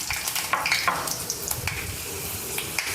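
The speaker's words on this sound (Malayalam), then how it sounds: "ഒപ്പം നമുക്ക് അല്പം ഉലുവ ഇട്ട് കൊടുക്കാം" Fenugreek seeds and mustard seeds crackle and sizzle in hot oil in a pan for a Kerala-style rasam, a steady close frying hiss with scattered small pops and no talking.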